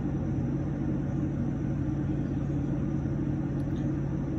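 Heavy truck maneuvering at a geothermal well drilling site, a loud, steady low engine rumble that stays constant and close throughout with no pauses.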